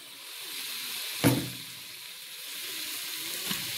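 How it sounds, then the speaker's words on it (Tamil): Onion with ginger-garlic paste dropped into hot oil in a pan, a sudden loud sizzle burst that settles into a steady frying hiss, with a softer flare near the end. "அடுத்தது இஞ்சி பூண்டு விழுதுகளை உள்ளுக்கு சேருங்க."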